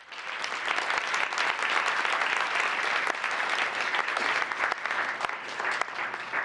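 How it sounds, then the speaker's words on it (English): Sustained applause from the audience at a town council meeting fills the room for Group 2, a dense, steady wash of many hands clapping at full strength from start to finish. "Let's give Group 2 a big round of applause."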